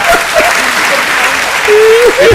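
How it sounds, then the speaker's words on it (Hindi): Audience at a Hindi poetry gathering claps in a dense burst of applause that swells toward the end, with scattered cheers and whistles mixed in. "पीछे के लोग तालियां बजा दो"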